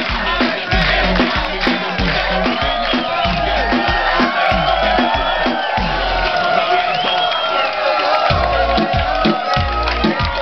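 A large crowd cheers and shouts loudly over pounding music with a heavy beat, the noise sustained throughout.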